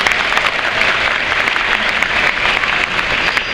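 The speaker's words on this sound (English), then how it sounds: "Let's get a big round of applause for Madeline." Audience applause for animal trainers at a live animal show in an outdoor habitat arena, a steady, dense crowd clapping that holds loud and even throughout with no voices over it.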